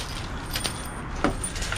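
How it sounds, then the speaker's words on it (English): A bunch of keys, some of them brass or chrome-plated brass, jingles in a few short metallic bursts while being rummaged through in a dumpster. It sounds close and fairly quiet, with no talking. "Some keys."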